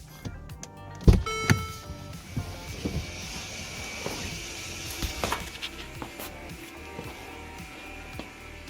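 The electronic rear parking brake of a Mercedes-Benz GLA45 whirs as it retracts for pad replacement, a steady electric motor hum with a few clicks and knocks early on, close and fairly quiet.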